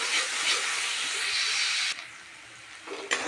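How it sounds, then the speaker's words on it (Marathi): Tomatoes frying with coconut paste in oil give a steady, close broadband hiss for about two seconds, then a quieter sizzle with a couple of small scraping bumps near the end. "टोमॅटो परतून घेत असते आणि ही खोबऱ्याचं थोडंसं टाकत असते, खोबऱ्याची पेस्ट केलेली"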